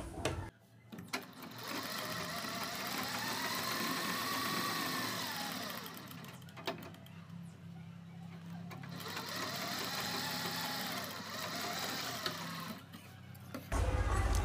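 A sewing machine stitches the point of a kurti or suit collar, a close, steady whirring run broken by a brief pause midway before resuming and stopping near the end.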